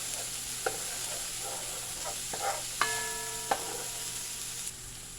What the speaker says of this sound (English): So we're going to give this a nice little stir.